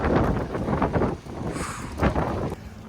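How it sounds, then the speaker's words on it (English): Strong wind whipping across an open farm in freezing weather, roaring and buffeting the microphone in loud, rumbling gusts that swell and ease with no voices. "Good Lord, the wind is it's whipping."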